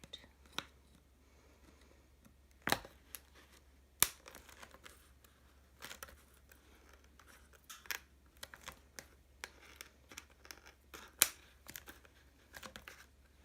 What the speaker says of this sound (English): Take a pair of scissors and then just cut all the way around.